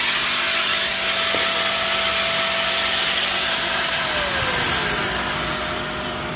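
A 7-amp electric grinder running off a Galaxy Envy PV 9000 solar inverter fed by two solar panels, giving a steady loud whine with a constant motor hum throughout and no talking.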